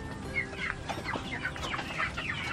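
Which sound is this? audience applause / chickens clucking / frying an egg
chickens clucking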